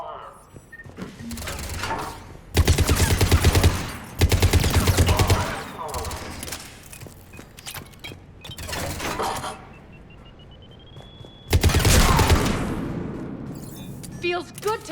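Bursts of rapid automatic gunfire in the Mass Effect 3 firefight on Omega, loud and close, coming in several volleys separated by short pauses, with voices speaking between the shots.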